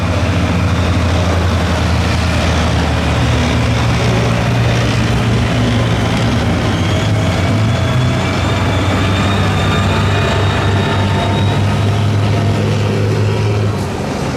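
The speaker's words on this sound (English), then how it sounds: "we've also got driving around the museum's M16 version of the half-track with those 50 caliber machine guns on the back" A US M16 half-track with .50 caliber machine guns mounted on the back drives around a museum arena during a Tankfest display, giving a loud, steady engine rumble and drone throughout with no talk over it.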